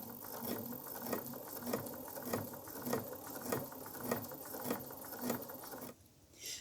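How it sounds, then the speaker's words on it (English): A sewing machine stitches cotton tape onto fabric along an edge, giving a steady, rapid mechanical patter of needle strokes with regular pulses, close and alone, stopping abruptly near the end. "I'm going to machine sew it by lining the edge up with that pink thread all the way along"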